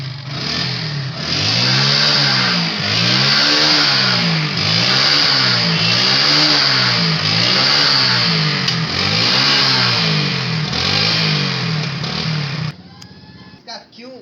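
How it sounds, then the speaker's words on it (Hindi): A Hero Glamour motorcycle with an engine that blows smoke runs close by, its engine rising and falling in a steady cycle of repeated revs for about twelve seconds before cutting down to a rough idle. "यहाँ में ये ग्लैमर बाइक है, ग्लैमर बाइक। इसका मेन प्रॉब्लम है इंजन से धुआं मारने का। मैंने आपको स्टार्ट करके दिखा रहे हैं।"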